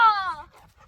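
A dog running through mud, giving a short, close, breathy pant with a high whimpering edge that fades within a second.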